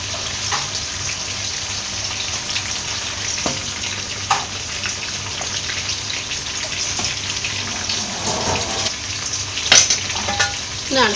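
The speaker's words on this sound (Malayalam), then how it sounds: "ഇതിലേക്ക് അരി ഇട്ട് കൊടുക്കാം." Raw rice poured into a pot of boiling water seasoned with black pepper and cardamom for Kerala Kottayam-style chicken biryani: a close, hissing splash and bubbling under a steady kitchen sizzle, with no talking.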